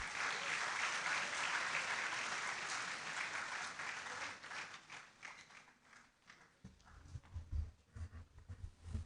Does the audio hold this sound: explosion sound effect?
no